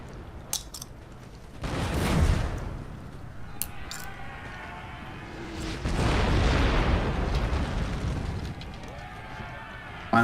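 Cannon and howitzer fire in Total War: Napoleon arrives as two broad, rumbling booms a few seconds apart, each swelling and fading, with scattered clicks and faint background noise between them.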